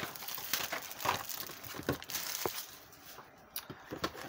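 Thick plastic wrap being cut and pulled off a Yu-Gi-Oh Legacy power box, giving close, irregular crinkling and crackling bursts with no talking.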